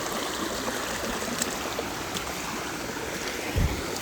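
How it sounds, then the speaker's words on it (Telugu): Rainwater from overnight rain rushing at full flow through a farm field, a loud, continuous broadband gush with no pauses, close to the listener, with a brief low thump near the end. "వాటర్ సౌండ్ చూడండి ఎంత ఘోరంగా వస్తుంది వాటర్ అయితే ఫుల్ ఫ్లో అవుతుంది"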